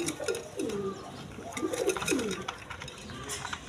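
Putul Gorra pigeons coo close by in several rolling, throaty calls that rise and fall in a steady rhythm, with faint background noise.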